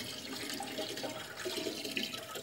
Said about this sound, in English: I'm just going to go for it and pour this straight in, try not to make too much of a mess